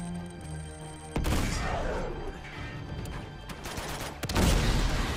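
Shotgun blasts and explosive crashes from the action game Uncharted 2: Among Thieves, a loud burst of gunfire hitting at about one second and another heavy boom near the end, with chaotic debris and impact noise in between.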